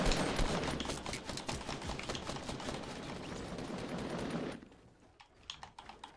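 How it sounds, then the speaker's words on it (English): Rapid gunfire from a Fortnite Battle Royale match, a dense, continuous crackle of shots that is loud and steady before cutting off abruptly, followed by a few scattered, quieter bursts. "I was getting shot."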